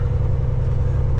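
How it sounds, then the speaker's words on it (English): Truck engine running steadily inside a shop, a loud, close, even low rumble with no talk over it. "It just sounds like a truck in here now, instead of like a beached seal."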